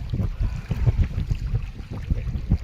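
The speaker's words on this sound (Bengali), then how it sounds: "দাঁড়ায় থাকা মুশকিল, এত হাওয়া" Strong gusty wind buffets the open air beside a village river during hook fishing, a dense low roar with repeated rising gusts and faint water sounds underneath, close and steady, with no talking.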